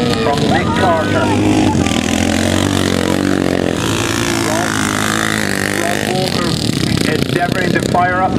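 Racing motorcycle at the Farleigh Castle scramble accelerating out of a corner on the wide line, its engine note rising and revving loudly under continuous commentary.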